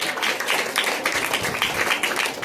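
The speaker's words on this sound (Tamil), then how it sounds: "அவங்களையும் கைத்தட்டல் கொடுத்து வரவேற்கலாம்" An audience applauds to welcome a guest at a Pongal debate stage event, giving a steady wash of many hands clapping at moderate volume, heard at a distance.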